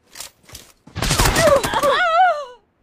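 Gunfire in the mobile battle-royale game Game for Peace: a few short separate bursts, then a longer dense volley lasting about a second and a half, with a wavering tonal sound over the end of it.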